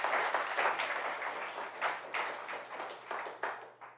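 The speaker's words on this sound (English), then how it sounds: "So let's give him a round of applause" A crowd at a 20th anniversary celebration of California's clean car standards breaks into sustained applause, dense steady clapping from many hands that holds for about four seconds before thinning slightly at the end.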